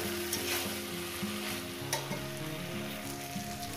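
Okra cooking in poppy seed paste in a pan, a continuous soft sizzle with occasional stirring clinks, partly masked by background music, no speech.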